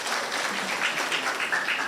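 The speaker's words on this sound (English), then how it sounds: "Let us clap for them." Brief burst of crowd applause at a teachers training college launch ceremony, steady and moderately loud for a couple of seconds.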